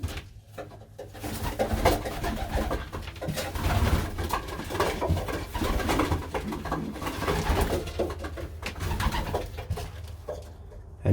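Racing pigeons coo steadily at close range just after a race, a soft continuous burbling with overlapping calls and faint rustling, with no talking.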